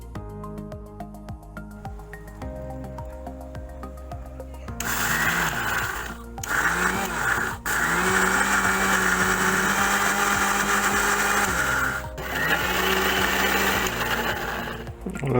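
A mixer grinder whirs loudly while grinding ginger, garlic and chilli for a chutney, starting after a quiet stretch with music and running in strong, steady pulses broken by brief stops and restarts.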